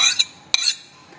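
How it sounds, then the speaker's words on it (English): Stirring flour into a quark batter for German quarkballchen, heard as a few quick metallic clinks of a utensil against a bowl, close and bright, in a short burst with no talking. "And now I'm going to stir in my dry ingredients."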